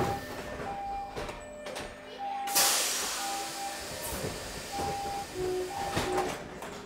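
Riding the Seattle Monorail from the Space Needle toward downtown, a steady rolling rumble and airy hiss fill the car with thin electric whine tones and a burst of wind noise, while a voice is faintly audible.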